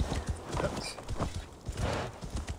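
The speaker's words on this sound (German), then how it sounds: "Ich glaube, wir nennen das Pferd doch Loki, weil es taucht einfach überall auf." Rhythmic horse hooves clip-clop at a steady walking pace in the video game Assassin's Creed Valhalla, fairly close and moderately loud, with a faint background hum.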